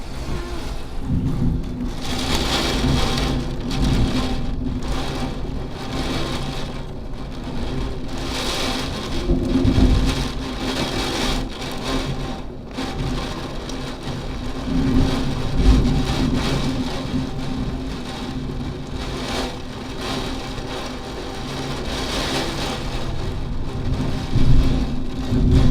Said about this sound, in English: Looks like we just got some wind and rain.